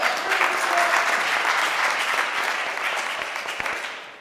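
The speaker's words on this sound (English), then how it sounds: "round of applause" A room full of people at a Rotary Club meeting breaks into applause, dense close clapping that holds strong for several seconds before thinning and fading at the end.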